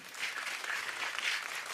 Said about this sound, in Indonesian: Yang setuju bangkit berdiri, tepuk tangan lebih keras lagi.